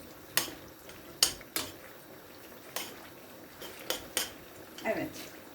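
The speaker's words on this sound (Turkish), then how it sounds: "salçayla soğanımızı kavurma işlemine devam ediyoruz" Onions and tomato paste are sautéed in a pan, with a spoon scraping and knocking against it in sharp intermittent clinks over a faint background sizzle.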